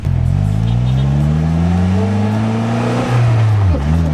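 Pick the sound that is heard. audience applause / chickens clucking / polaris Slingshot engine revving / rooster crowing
polaris Slingshot engine revving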